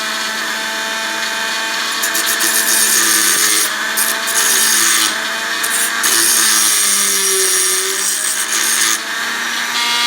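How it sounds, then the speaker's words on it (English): A Dremel rotary tool cuts a small square nick in a part while a Dinky Austin toy car is being restored. The high whine holds steady throughout, close and fairly loud, with pitch dips and scraping bursts as the bit bites into the material. "I'm just going to make a little square nick in here. So with the Dremel"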